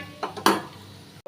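Rice added to a cooking pot, heard as a brief metallic clatter and clink of utensils against the pot, close and short.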